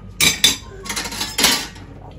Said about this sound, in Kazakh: Ыдыс жуайын деп жатырмын.